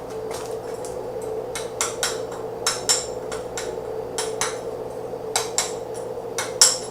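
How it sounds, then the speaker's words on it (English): A hammer chips slag off a weld, giving a series of sharp metallic taps at an irregular pace over a steady background hum, close and fairly loud, with no talk. "Break away the slag."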